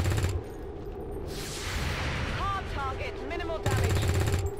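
Rapid reaction gunfire bursts in the video game XCOM 2 (Long War 2), mechanical and rattling, with some chirping effects in the middle and a loud burst returning at the end.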